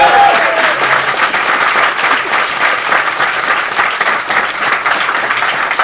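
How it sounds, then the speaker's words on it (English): Steady, dense applause from a sizable audience, loud and sustained throughout, with faint voices mixed into the clapping. "Can we have a round of applause for our special guest?"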